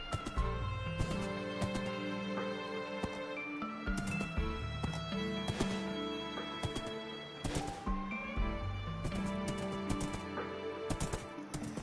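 Hooves of a horse running in a video game clip-clop in a fast, repeated rhythm over music and other game sounds, moderately loud and steady throughout.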